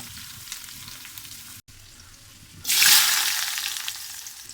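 Chopped onion and garlic hit a hot pan and burst into a loud, bright sizzle partway through, with quieter frying and a brief silent gap before it, no talk.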